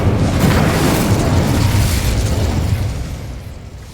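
A fire spell blast from Hogwarts Legacy, a loud sustained booming burst of flame that rolls on for several seconds and then fades out.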